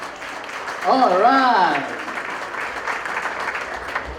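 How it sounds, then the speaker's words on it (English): Audience applause for a young woman presented as a princess at a 2016 stage event, a steady wash of clapping beneath a voice talking over it. "Let's give her a big round of applause."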